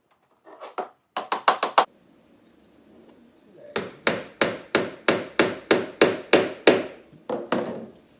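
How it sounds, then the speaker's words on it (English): Sharp hammer strikes ring out in quick bursts as a nail is driven into wood for a squirrel feeder, first a short flurry, then a steady run of about a dozen evenly spaced blows, close and loud. "I made her drill one hole and put one nail in before I did the other one."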